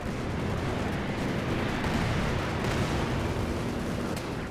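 Company of Heroes 2 battle during a P-47 strafing run on a Panzer IV: a dense, continuous roar of gunfire and explosions, loud and unbroken, with no clear gaps between blasts.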